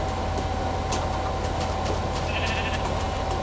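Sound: sheep bleating in Minecraft video game

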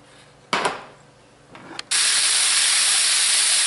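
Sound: sausage, peppers and onions cooking in oil

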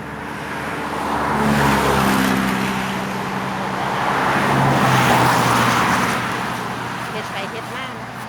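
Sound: cars passing by on a road

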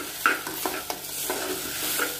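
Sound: stirring rice with raisins and ginger in a pan

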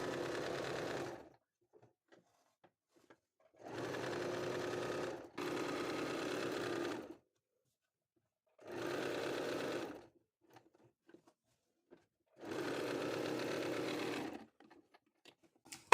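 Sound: sewing machine stitching lining to main cloth of kurti

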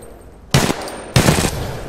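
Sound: automatic pistol firing in video game Titanfall 2

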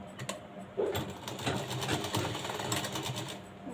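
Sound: sewing machine stitching a blouse hook strip

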